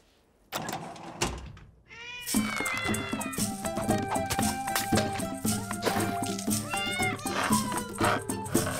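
A cartoon mother cat meows repeatedly in drawn-out, wavering cries after a couple of sharp knocks, set over a busy background of music and effects.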